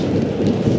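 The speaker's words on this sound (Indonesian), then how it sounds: "ada petir-petirnya" Steady rain and a low rumble of thunder during a storm on a motorbike tour, a dense continuous wash of sound heard close and fairly loud with no talking.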